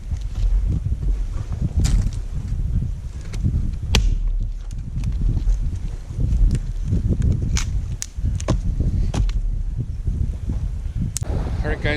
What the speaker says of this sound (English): It's been a little too windy, as you can also see and hear.